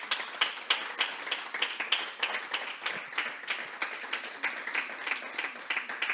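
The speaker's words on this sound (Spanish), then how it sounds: "Dale un aplauso al Señor" Church congregation applauding during a Sunday service, a sustained patter of many hands with a loose rhythm, moderately loud and steady throughout.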